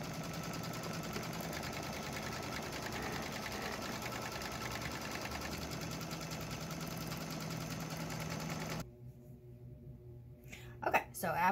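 Kimberbell embroidery sewing machine stitching a tack-down line over batting, a steady rapid whirring buzz close by that stops abruptly near the end, followed by faint handling noises.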